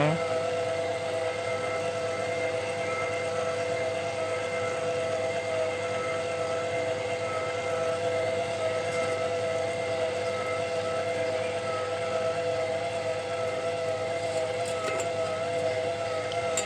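A household stand mixer kneading brioche dough, a steady, unchanging motor whine with strong tonal hum lasting throughout, fairly close and without pauses.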